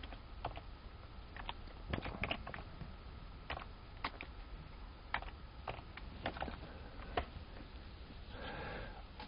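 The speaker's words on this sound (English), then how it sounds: "I'm going to type in the IP address of the PC." Someone types an IP address on a PC's computer keyboard, producing irregular clusters of soft key clicks with short pauses between bursts, close and fairly quiet, with no talking.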